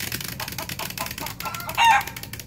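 Chickens cluck in quick, busy bursts, close and fairly loud, ending in a brief louder squawk, with no talk over them.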